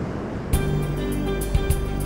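Niagara Falls waterfall, a steady broadband roar of crashing water filling the whole clip, loud and continuous, with a few brief low thumps.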